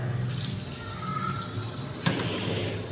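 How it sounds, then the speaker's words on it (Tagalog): A child washing dishes at a sink, tap water running and splashing steadily with one brief clatter, close and continuous without talk. "Binalo mo naman yung tubig"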